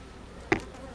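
Honey bees at a hive keep up a low, steady hum. A single sharp click sounds at about the midpoint.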